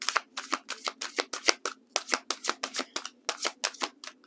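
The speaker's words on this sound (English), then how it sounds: "Let's get some cards for the bond" Tarot cards are shuffled and drawn in a quick, uneven run of crisp riffling flicks and slaps, close and clear over a quiet background.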